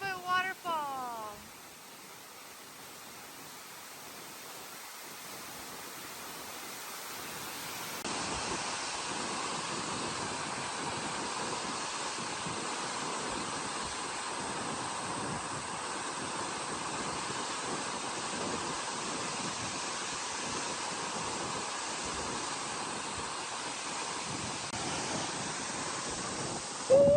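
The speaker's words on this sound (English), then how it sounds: "Down the 100-foot waterfall." A powerful 100-foot waterfall in O'Toole Creek canyon, Washington, gives a steady broadband rush heard from nearby, with excited shouting at the start and wind buffeting the microphone throughout.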